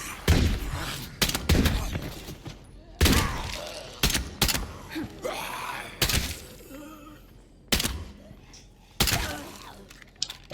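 Gunfire in State of Decay 2 as zombies are shot, with loud sharp single shots and short bursts at irregular intervals, some crunching impacts, and a voice speaking between the shots.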